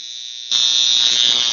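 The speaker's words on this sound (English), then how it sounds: "So we're going to turn on the plasma." Plasma in a water spark plug rig for a 5 hp Briggs and Stratton engine switches on abruptly after half a second of silence, a loud, steady high-pitched electrical buzz that holds constant to the end.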